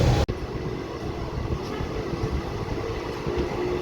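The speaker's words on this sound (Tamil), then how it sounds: "ஸோ நம்ம ட்ரெயின் வந்துருச்சு." A train rumbles steadily close by with a continuous rolling drone, heard on a rail journey toward Madurai near Rameshwaram.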